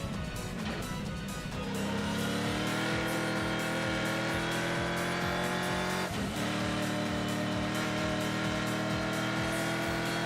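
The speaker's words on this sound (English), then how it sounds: "Car sounds great." A Viper race car in the ASUKA x Redline Reverie driving game roars close and continuous, the engine revving hard through rising gear pulls with repeated rhythmic shift pulses and a brief dip mid-run.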